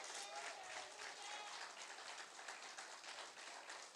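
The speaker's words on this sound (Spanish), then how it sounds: "Denle un aplauso al Señor." Steady applause from a church congregation during a sermon, a dense continuous wash of clapping that holds evenly throughout at a moderate distance.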